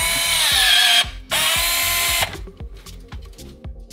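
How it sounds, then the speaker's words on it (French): A power driver screws a neutral wire into a terminal block while an electrical outlet and differential breaker are wired for electric car charging, giving two loud, close whirring bursts followed by quieter rhythmic clicking. "On le place dans le bornier et on visse."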